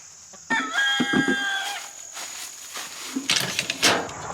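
A small backyard flock of eight hens sounds off in short calls and a drawn-out cackling note, fairly close, with quiet ambient noise and faint insect buzz between calls.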